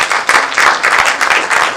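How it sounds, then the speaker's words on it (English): Audience applause at Team Jamaica Bickle's 20th reception, a steady close wash of many hands clapping throughout the short burst. "I need to give them a round of applause for that also"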